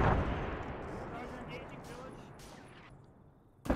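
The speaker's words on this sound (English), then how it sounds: "Those are good mortars." A distant, muffled mortar impact rumbles and fades in an ARMA combat game, followed near the end by a short sharp burst.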